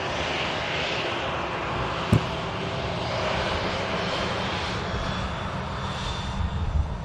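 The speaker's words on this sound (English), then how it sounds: "EasyJet in from Paris." An EasyJet airliner arriving from Paris at Manchester Airport, a steady distant jet engine roar that stays even throughout, with no talk and only a brief knock partway through.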